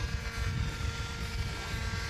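A radio-controlled model helicopter hovering outdoors, with a steady, close, low rotor drone and engine whir holding even throughout with no talk.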